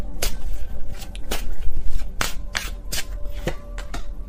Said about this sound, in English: I did see the Chariot when I was shuffling